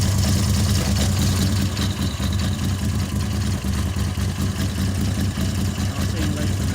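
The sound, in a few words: 2008 Moto Guzzi Breva Sport 1200 motorcycle engine idling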